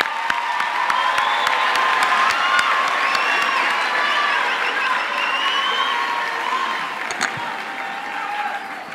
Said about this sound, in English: I think we can give them all a hand of applause.